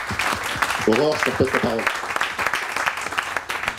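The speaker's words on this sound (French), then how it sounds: "Merci beaucoup, on peut l'applaudir." Audience applause at a French business conference on the future of the restaurant industry, a dense steady clatter of clapping that runs through the whole stretch while a host talks over it.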